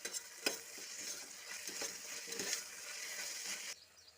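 Ginger garlic paste and mint leaves fry in a pan with a soft, steady sizzle, broken by a few spoon taps and stirring scrapes before it cuts off abruptly near the end.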